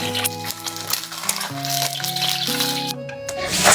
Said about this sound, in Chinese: 煎3颗鸡蛋来煮汤